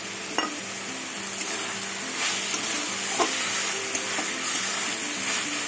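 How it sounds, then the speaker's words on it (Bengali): Fried lentil dumplings (bori) are stirred into water spinach frying in a pan, a steady close sizzle with scraping stir strokes and a few light clinks, no talking. "এবার আমি ভাজা বড়িগুলো দিয়ে দেবো।"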